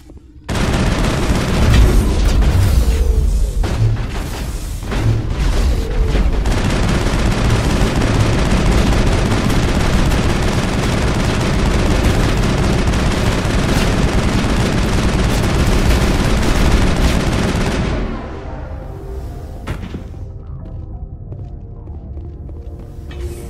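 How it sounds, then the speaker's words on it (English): Heavy gunfire in Mass Effect gameplay: rapid automatic bursts, booming impacts and explosions pile into a loud, continuous barrage for about eighteen seconds before cutting off to quieter background sound. "It was hard to concentrate while dodging gunfire."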